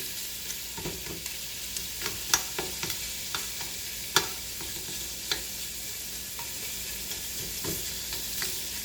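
Bones sear and brown in a hot pan for a brown stock, giving a constant close sizzle broken by occasional scraping and stirring clicks.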